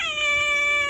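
A female cat lets out one sustained, loud, close-up meow, a drawn-out tonal cry of under a second.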